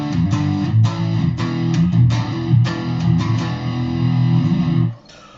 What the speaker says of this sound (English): I have some outboard gear that's operating as a cabinet simulator.